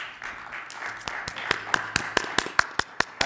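Clapping at a city council meeting, a sparse handful of hands tapping in a steady, quickening rhythm, fairly close and without talk over it.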